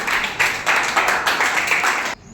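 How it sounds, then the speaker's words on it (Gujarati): A room of students at a tuition-class quiz competition claps together in rhythmic, pulsing applause for a team, steady and fairly loud before stopping abruptly. "તક્ષશિલાને મળે છે 10 માર્ક તાળીઓથી બજાવો"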